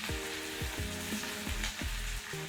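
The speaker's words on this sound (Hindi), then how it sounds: "थोड़ा सा स्टर फ्राई कर लेंगे" Onion and capsicum cubes stir-frying in hot oil, giving a steady close sizzle through the whole stretch with a tonal backing sound running underneath.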